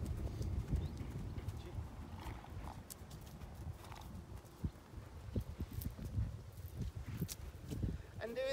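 An abandoned horse found on a highway, driven around on the ground, its hooves clip-clopping in a steady walking rhythm at moderate distance, with a brief whinny and faint rustling outdoors.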